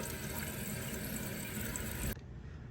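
A Kohler toilet tank refilling with water after a running-toilet repair, giving a steady close rushing hiss that cuts off sharply near the end and leaves a quieter flow.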